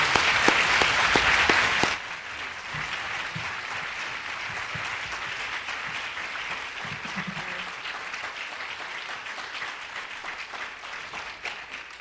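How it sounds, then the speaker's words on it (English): An audience welcoming a speaker bursts into dense, loud applause for about two seconds, then the clapping drops to a quieter, sustained patter that continues to the end. "Please help me to give her a very warm welcome. Stomp your feet, clap,"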